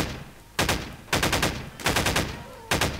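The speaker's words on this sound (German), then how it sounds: "Ich knall die mal ab" Bursts of automatic gunfire in the Half-Life 2 mod Combine Destiny, four separate rapid volleys of sharp shots spaced by brief gaps, loud and close with no voices.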